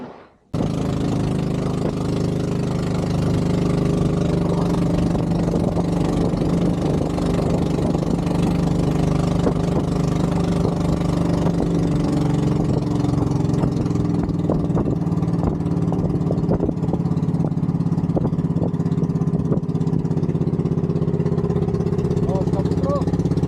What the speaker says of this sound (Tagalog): So, ang gamit namin na yung bangka ni Buski